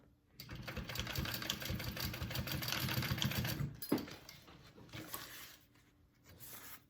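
A sewing machine bastes a fabric strap onto a gusset piece for a game bag. It whirs steadily for about three seconds, stops abruptly with a click, then runs again more quietly in short bursts.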